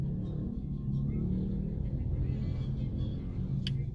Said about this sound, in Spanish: Pues es una tardecita de lunes, de mucho tráfico, así que hay que tener paciencia